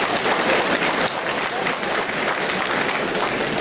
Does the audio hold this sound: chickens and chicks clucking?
no